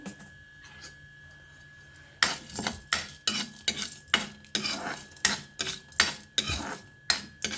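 Peanuts, chana dal and urad dal dry-roasting in a pan on low heat for drumstick-leaf spice powder, with a steady run of scraping, clinking spoon strokes after a quiet start, close and alone.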